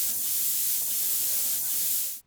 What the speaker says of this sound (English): It's time for the medical spray paint.